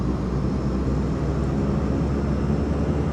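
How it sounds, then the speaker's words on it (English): A Beechcraft King Air turboprop engine, engine 1 set to high idle, starts up in Microsoft Flight Simulator as a loud, steady, deep roar with a thin whine layered on top. "to start engine 1, I'm going to put it into high idle just to help us along"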